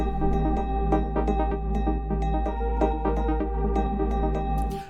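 Electronic dance track built in Propellerhead Reason, a heavy sustained bass pumping under sidechain compression with punchy kicks and crisp hi-hats in a driving loop, full and loud throughout.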